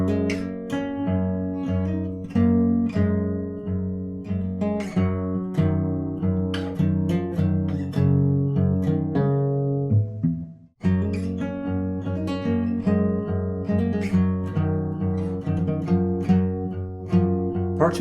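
An acoustic guitar picks the riff from a song with hammer-ons and pull-offs, a steady flow of ringing notes with one brief break midway, played alone at close range.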